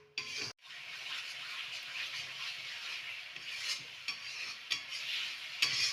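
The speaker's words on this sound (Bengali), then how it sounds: "এবার ভালো করে কষিয়ে নেব মশলাটাকে" Spice masala with a little sugar fries in a pan for a bhetki fish dish with cauliflower and potato, a continuous hissing sizzle broken by a sharp clank and repeated scraping stirs nearby.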